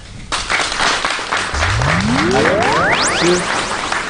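Audience applause at an award ceremony for distinction and excellence, steady clapping with a rising whistle-like tone sweeping through the middle.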